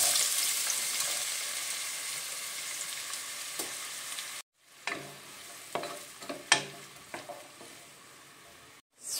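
A steady loud sizzle of onions, garlic and minced meat frying in a pot, broken by a pause and then quieter sizzling with scraping stirs.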